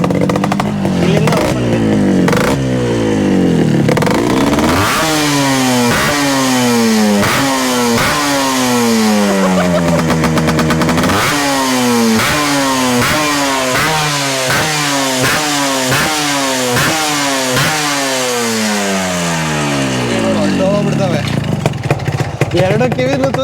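A custom two-stroke Yamaha RX135 drag bike with a chrome-coated chamber silencer revs hard and close, firing off a long run of rapid, raspy throttle blips that rise and drop in quick succession.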